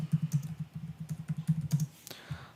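Keys tapped on a computer keyboard while an address is entered into a form, a quick run of close, crisp clicks followed by a short pause and a few final taps.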